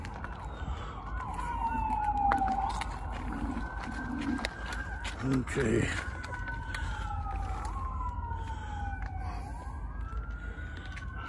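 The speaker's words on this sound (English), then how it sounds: "it's an ambulance. I can see it down there." An ambulance siren wails in rising and falling sweeps at moderate distance over traffic rumble, with a brief spoken word partway through.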